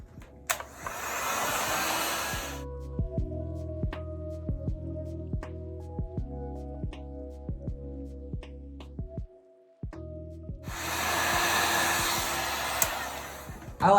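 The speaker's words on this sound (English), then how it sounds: "What you need to do is come back with your heat gun and apply a little bit more heat." A heat gun blows a steady, loud airflow rush while scorching a marker design, starting and stopping with a long quieter stretch of low hum and tapping between the two blasts.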